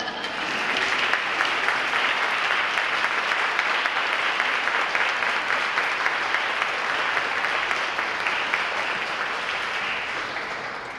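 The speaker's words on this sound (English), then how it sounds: "let's give everybody, including me, a round of applause" At a college wing dedication, an audience gives the nurses a long, sustained round of applause, a thick, even roar of many hands clapping that stays loud throughout before easing slightly at the end.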